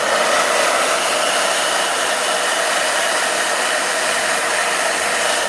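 A blow dryer runs steadily at close range for the whole stretch, a loud, even broadband whoosh with no pauses and no voices over it.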